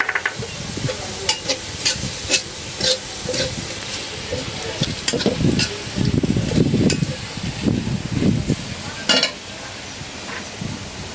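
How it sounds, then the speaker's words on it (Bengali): Onions frying in a pan until browned for a river fish curry with mustard paste, a steady sizzle broken by repeated scraping stirs and soft clinks of a spatula, close and moderately loud throughout. "পেঁয়াজটা একদম ভালো করে লাল করে ভেজে নেবে"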